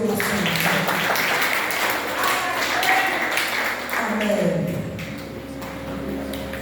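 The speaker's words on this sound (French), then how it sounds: "On va applaudir, bon Dieu" A church congregation applauds in a sustained wash of clapping that fades slightly toward the end, with voices mingling underneath.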